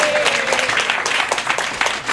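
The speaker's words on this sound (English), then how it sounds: "Everybody give them a big round of applause." An audience at a workshop awards event claps in a brief, dense burst of applause that fades slightly at the end.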